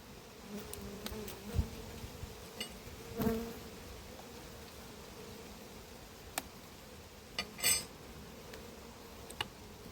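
Bees in an opened hive at an apiary hum in a sustained, low drone close by, with occasional clicks and light knocks of handling mixed in; no one speaks.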